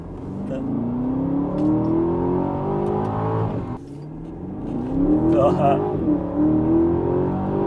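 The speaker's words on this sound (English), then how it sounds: "What makes this Aston Martin an Aston Martin, of course, has to be that amazing V8." The V8 engine of a 2021 Aston Martin DBX revs in two rising sweeps, a deep, throaty growl climbing in pitch, briefly cutting off and then building again, loud and close.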